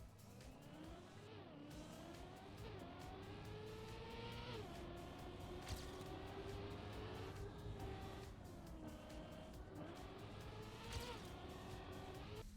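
A car drifting in a racing video game: a steady engine drone rises and falls in pitch through gear shifts, with tire squeal and faint skidding, fairly quiet throughout.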